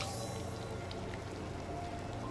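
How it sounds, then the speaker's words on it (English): Steady, quiet rainfall in the Disney Dreamlight Valley video game, a soft even hiss with faint patters that holds unchanged throughout. "Oh, it's raining."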